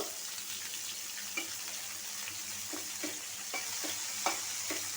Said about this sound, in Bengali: আগে মাছ আর এই কাঁচামরিচ বাজাবো তারপরে পেঁয়াজটা বাজবো